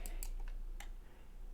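A few sparse, faint clicks from a computer mouse on an X68000 computer, about four soft taps spaced across a quiet background hum.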